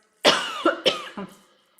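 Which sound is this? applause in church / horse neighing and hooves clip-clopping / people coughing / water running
people coughing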